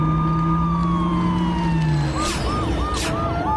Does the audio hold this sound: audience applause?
no